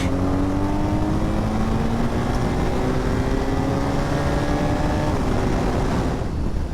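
A BMW HP2 Sport motorcycle accelerating, its engine note climbing steadily in pitch under hard throttle, loud and close with strong wind rush, then easing off at the very end.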